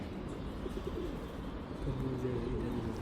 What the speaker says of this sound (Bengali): কতগুলো কবুতর, এই যে কিন্তু ইঁদুরও আছে।